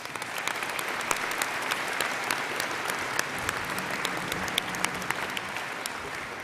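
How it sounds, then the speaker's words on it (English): A convocation crowd at Simon Fraser University applauds the university pipe band, a steady dense wash of clapping that holds at an even level throughout with no talk. "Let's give them a round of applause."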